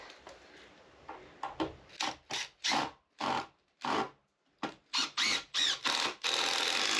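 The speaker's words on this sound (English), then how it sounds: "So let's get this first screw in" Screws driven into a wooden pergola with a power drill, a series of short whirring bursts in quick succession, close and fairly loud, followed by one longer sustained run at the end.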